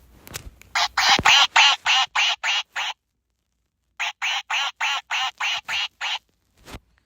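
A 'Demon Chicken' squeeze toy, not a real bird, lets out two quick runs of loud, rhythmic squawks, each burst a string of roughly eight harsh honks, separated by a short pause.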